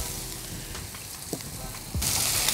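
Smashburgers searing on a Blackstone griddle give a steady crackling sizzle with brief clicks, swelling louder near the end.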